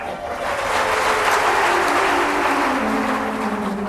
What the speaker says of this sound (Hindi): तालियां तो बजाते हो